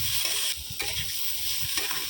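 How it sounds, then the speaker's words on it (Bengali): Paneer sauté being stirred in a pan after a sprinkle of cumin powder, a steady close sizzle with a few scraping stirs breaking through it over a couple of seconds. "এরপরে একটু জিরে গুঁড়ো দিয়ে জিনিসটাকে আবার মিক্স করতে হবে।"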